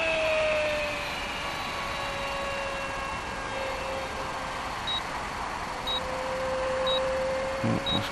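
Short, high electronic beeps from a timer repeat evenly about once a second, faint over a distant droning hum of an RC jet plane overhead.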